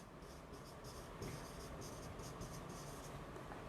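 Chalk or marker writing on a board during a physics lecture on waves, a continuous scratchy stroke sound with short strokes repeating, steady and moderately near with no talk over it.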